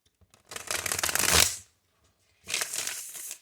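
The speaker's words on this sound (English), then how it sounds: "I'm much better at shuffling these than I was the last time I tried them" Two bursts of tarot card shuffling, a longer riffle that swells then stops, followed after a pause by a second shorter riffle, close and fairly loud.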